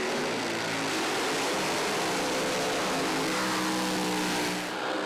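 Nitro funny car engine at a drag race at Willowbank Raceway, a dense, loud roar held steady for several seconds before easing slightly at the end.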